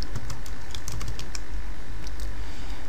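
Close, steady typing on a computer keyboard while writing Java code, with a quick run of clicking keystrokes and a few sharper key taps, no talking.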